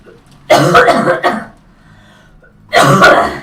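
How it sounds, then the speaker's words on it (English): A person coughing and clearing the throat while acting out an asthma attack, two harsh close bursts separated by a brief quiet gap. "Coughing and then having an actual asthma attack and I'm coughing."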